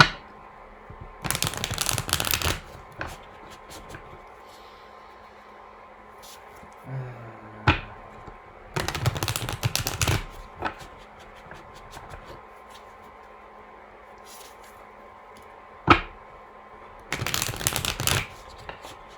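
A tarot deck shuffled by hand in three separate bursts, close and crisp riffling, with quiet pauses and a couple of sharp taps between them.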